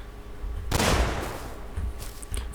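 In the video game Rust, explosives blow up a wall: a sudden loud explosive blast erupts, followed by a rumbling, crackling decay as debris settles.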